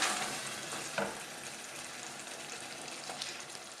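Aubergine stuffing mince frying in a pan, a steady close sizzle with a brief stir clatter near the start and another scrape later, no talking.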